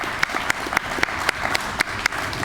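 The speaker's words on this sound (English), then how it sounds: "So I want to give a round of applause to the team." Rhythmic clapping from an audience at a LEED award ceremony, with sharp regular claps standing out over a steady spread of applause, fairly loud and close throughout.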